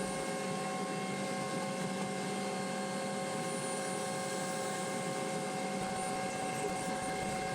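A T-6 trainer aircraft taxiing on a taxiway, its turboprop engine giving a continuous loud droning whine with steady tonal hum, unbroken throughout and heard without talk.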